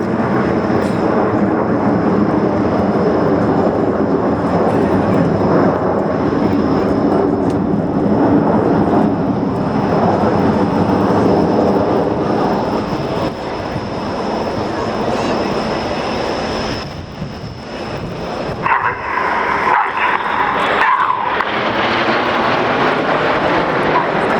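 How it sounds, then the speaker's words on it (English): RAF Hawk jets perform a 5-4 split formation at the RIAT 2013 air show, a loud continuous jet roar that dips briefly and then swells again, with an announcer talking over it. "Enid to the right and Jippo to the left. This is the 5-4 split."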